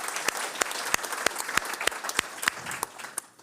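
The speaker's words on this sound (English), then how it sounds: "Can I please get an applause for Aquila?" An audience at a conference on Africa's minerals claps warmly for a panelist, a steady ripple of close applause with a few sharp individual claps standing out, fading slightly at the end.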